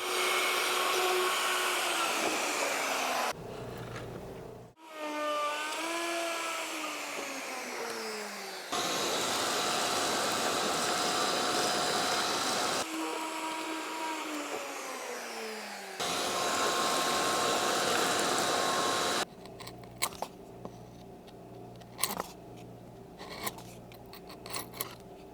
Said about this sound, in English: I can route a certain depth right now